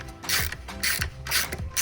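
Ratchet wrench clicking as bolts on a Royal Enfield Himalayan 450 motorcycle pannier rack are loosened, in three close, loud bursts of rapid ratcheting with no talk.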